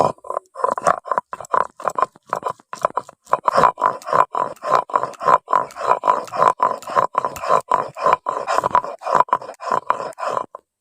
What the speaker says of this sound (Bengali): এবার মগজদানাটা বেটে নিচ্ছি।